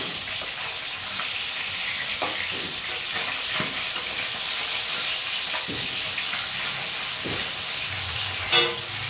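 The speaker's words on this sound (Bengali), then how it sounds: "এই দেখো, আমি এখন মাছগুলো ভেজে নিচ্ছি। ভোলা মাছ আর একটু শিং মাছ।" Bhola and shing fish frying in a pan, a steady broadband sizzle running throughout at close range, with occasional soft clinks and a brief sharper sound near the end; no one speaks.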